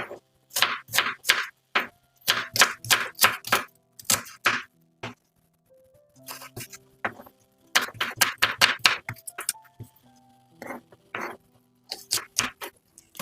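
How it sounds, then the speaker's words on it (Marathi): Knife finely chopping onions on a cutting board, quick bursts of crisp rhythmic cuts separated by brief pauses, close and clear with no talking. "याच प्रकारे सगळे आपल्याला कांदे हे चिरून घ्यायचे आहे"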